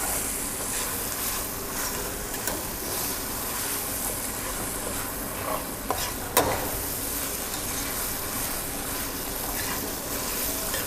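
Tomato paste sizzles and fries in a pan as it is stirred while cooking for a Veracruz-style fish sauce, a steady close hiss with occasional scraping of the spoon and no speech.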